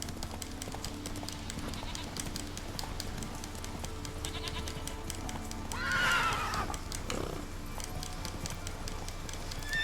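The horse Roach gallops in The Witcher 3 video game with steady clip-clop hoofbeats and a loud neigh midway through. Music and ambience play underneath.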